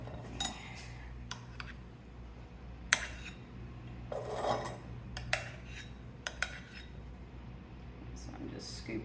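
A spoon scraping and scooping deviled egg filling in a kitchen, scattered soft clinks and rubs against a dish spread across the stretch with intermittent pauses.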